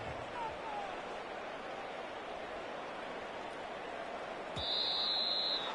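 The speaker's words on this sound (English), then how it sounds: "Now, whistles here." A referee's whistle in the Madden 25 football video game shrills briefly near the end, over a steady roar of stadium crowd noise.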